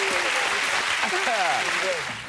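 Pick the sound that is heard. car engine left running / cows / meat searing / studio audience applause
studio audience applause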